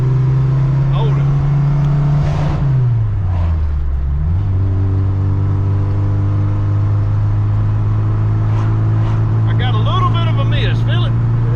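A 1972 Ford Pinto Runabout engine with a miss drones steadily from inside the car. The engine note dips and rises once as the gears change, and people talk over the loud hum.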